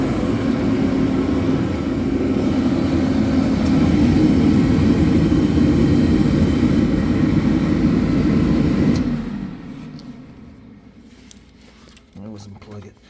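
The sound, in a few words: Mr. Heater MH170QFAVT forced air propane heater running, shutting down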